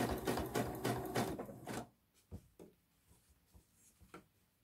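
Sewing machine stitching bias binding close to the edge of a garment neckline, a steady fast run of needle strokes for about two seconds, then stopping into scattered soft handling clicks and rustles.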